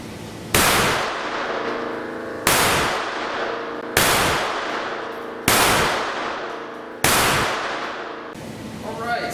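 A FEG AP pistol fires Blazer aluminum .32 ACP rounds in five evenly spaced sharp cracks, each shot loud and close with a short decaying tail.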